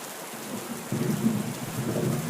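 Heavy rain pours steadily through a cartoon storm scene, a low thunderous rumble swelling in about a second in and holding under the downpour, with no voices.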